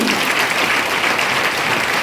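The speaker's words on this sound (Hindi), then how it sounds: "एक बार जोरदार ताली" Loud, dense applause from an audience at a training event, a continuous roar of many hands clapping that stays even from start to finish, close and with no clear speech.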